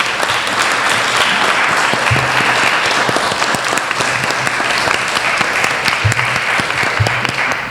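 Loud, sustained applause from a conference audience for a panel of speakers, a dense wash of clapping that holds steady from start to finish with no talk over it.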